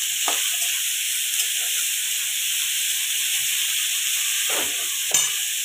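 Green peas, capsicum and tomato sauté in a pan with a steady hissing sizzle. A few faint clinks of stirring break through now and then, and there is no talk.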